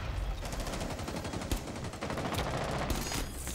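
Rapid automatic gunfire rattles continuously in a video game firefight, dense and loud bursts of shots overlapping with no pause for the whole moment.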